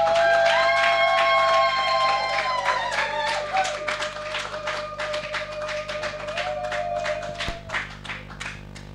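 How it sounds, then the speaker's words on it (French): Church congregation claps and applauds in a lively burst, sharp rhythmic claps mixed with sustained singing or organ-like tones, the clapping thinning out toward the end. "Acclamons, acclamons pour la gloire de Jésus."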